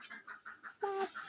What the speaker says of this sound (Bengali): এই যে একটা ঘরে হাঁসের প্যাক প্যাক শোনা যাচ্ছে।